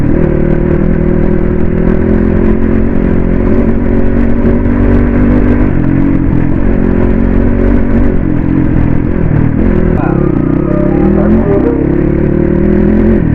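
A Yamaha Crossfire dirt bike runs steadily on an off-road track, its engine droning loud and close throughout, with a few rising revs near the end.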